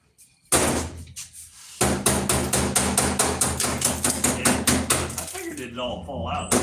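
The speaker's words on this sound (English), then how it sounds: "let me get a hammer. I'm going to tap this around a little." Repeated hammer taps strike a hard object in a steady, fairly fast rhythm, loud and close, after a few heavier knocks at the start.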